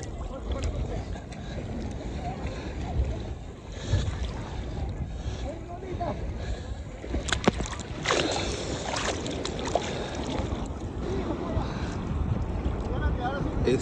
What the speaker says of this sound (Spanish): Esta es la playa Tuquillo.